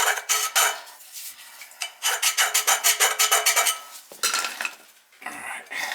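A flat sealing surface on an oil burner that keeps tripping its safety is scraped clean for a new gasket, giving repeated close, rhythmic metal scraping strokes in quick bursts with short pauses between.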